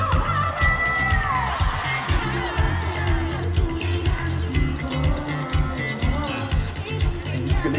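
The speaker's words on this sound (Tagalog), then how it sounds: "Rinig na rinig niyo ba yung crowd?" A large concert crowd at a Coachella 2026 Mojave stage performance cheers and shouts continuously and loudly, with whoops and screams rising over pounding music throughout.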